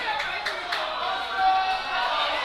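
Wrestling crowd at a live event clapping in a few sharp bursts at the start, then a steady hum of the audience beneath a commentator talking over it.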